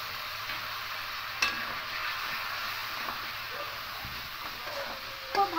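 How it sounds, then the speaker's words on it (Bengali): A spoon stirs chicken and spices in a pan, giving faint, low scraping and quiet sizzle with a few light knocks against the pan, close and subdued. "এবার খুব ভালো করে মশলার সঙ্গে সব মিক্স করে নেব"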